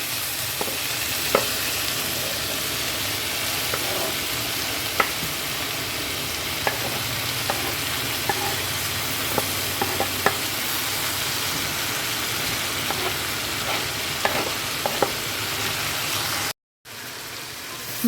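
Punarnava greens and vegetables cooking in a pan with no added water, a continuous dense sizzle with scattered light stirring taps throughout, briefly cutting out near the end before resuming.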